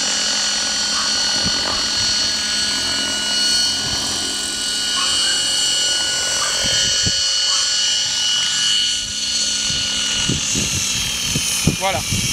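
DJI drone fitted with an XP3.1 flight controller landing on its own, a steady whining rotor buzz running throughout with brief bursts of talk over it.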